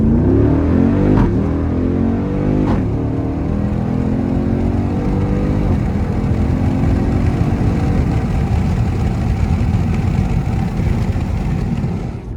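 SRT Jeep engine revving hard during late-night pulls, a loud, steady roar with rising and falling harmonics, close and continuous throughout with no talk.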